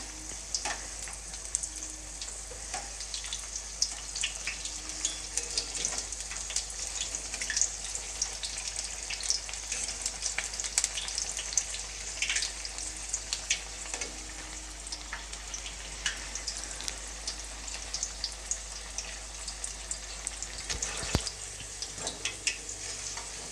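Okra mirchi fritters fry in hot oil, giving a steady, dense sizzle with crackling pops that runs unbroken throughout, with no talking.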